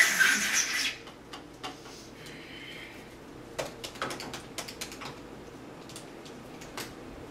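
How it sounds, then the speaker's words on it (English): Someone types on a computer keyboard: sparse, irregular clicks and key taps, faint at first, then a quicker run of sharper keystrokes against a quiet room hum. "That's not proper typing technique."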